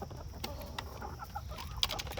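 Hungry backyard chickens in a coop cluck in soft, scattered bursts, several short calls close by over a low rustling background, faint overall.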